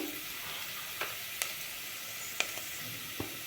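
Green chillies that were soaked in curd fry in a pan with a pinch of turmeric, giving a steady soft sizzle with a few sharp crackles and pops.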